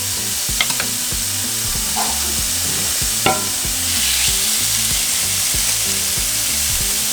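Carne asada steak sizzles in a hot skillet, a steady broad frying hiss with a few brief clanks and scrapes of a utensil, loud and continuous with no voices.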